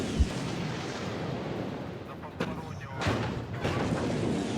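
Tank guns, including a T-55, firing in the WARNO real-time strategy game, with booming shots rising out of dense, continuous battle rumble and explosions.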